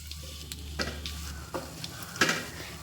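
Mustard seeds, cumin and dried red chilies sizzle in hot tempering oil, a close, continuous crackle broken by sharper spits and the scrape of stirring, with no talk.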